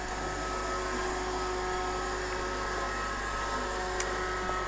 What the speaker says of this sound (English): But unlike a conventional vacuum cleaner, it's very good at going underneath the furniture too.